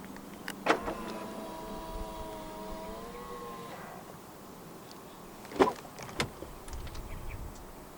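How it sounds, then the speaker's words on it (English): Pressing the keyless handle button on a 2025 Jetour Dashing 1.5 Turbo to unlock it brings a sharp click followed by a soft whirring tone lasting a few seconds, then another pair of close clicks later on. "And to unlock the car, just press the button on the driver's side door handle again."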